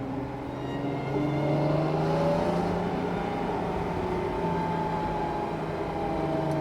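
A 1968 Mercedes-Benz 280 SL with manual steering drives along, its engine humming steadily up close with pitch rising and easing through smooth gear changes, and no voices.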